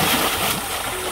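Water splashing in the video game Go Play Casos de la Vida at a river, a broad continuous wash of splatter that stays loud through the moment.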